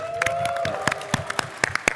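An audience at a PAX West 2024 live podcast show claps steadily, with scattered louder claps standing out over a continuous patter and a faint murmur of voices.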